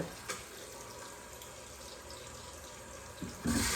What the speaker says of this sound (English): I want to turn this faucet on so it'll be cold.